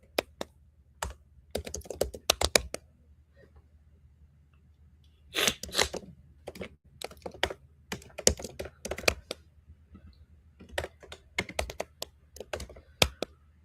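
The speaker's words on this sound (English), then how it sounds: "I was just typing Chinese words" Bursts of typing on a computer keyboard while entering Chinese text, the clicks coming in quick irregular clusters with short pauses between them, close and fairly quiet, with no voices present.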